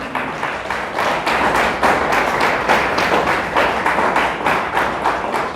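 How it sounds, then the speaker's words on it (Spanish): A church congregation claps together in steady, rapid applause, many hands close and loud, holding an even rhythm for several seconds with no talking. "Le damos un aplauso a Dios."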